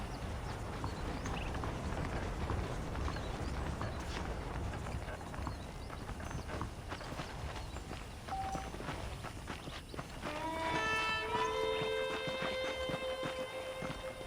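Horses in Red Dead Redemption clip-clop steadily at a walking pace, and a brief bright melodic tone rises near the end.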